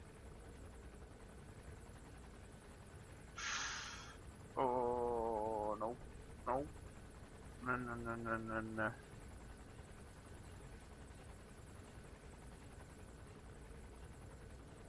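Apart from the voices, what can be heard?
helicopter in the video game Metal Gear Solid 5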